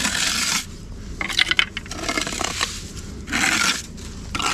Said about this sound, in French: J'ai mon surplus de mortier là qui est sorti, donc ça on le gratte.